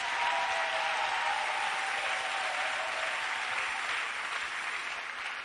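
Sustained applause from a church audience clapping for Jesus during a bilingual French-English sermon, a dense steady wash of many hands, loud and close, without a break.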